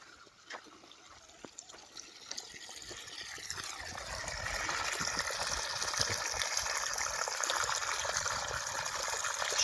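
Water pours from the outlet of a solar-powered farm pump, beginning as scattered drips and splashes and building after a few seconds into a steady, fuller gushing flow.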